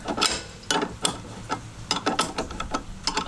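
A ratchet snugs up a bolt on an HD Offroad Engineering shackle relocation bracket on a 1998 Jeep: quick, close metallic clicks in short uneven bursts, with brief pauses between strokes.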